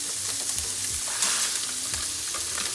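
Yellow rice frying in a skillet gives a dense, continuous sizzle with soft scraping stirs, close and steady throughout.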